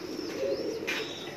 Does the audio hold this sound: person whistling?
no